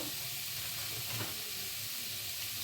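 Spices and tomato sizzle steadily in a hot pan while being stirred, a constant close frying hiss with a faint scrape of stirring, no voices.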